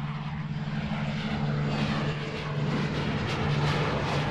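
A Lockheed A-12 Oxcart, an early stealth reconnaissance aircraft, flies past with a sustained engine roar. The sound is moderately loud and continuous, and swells slightly toward the end, with no voices.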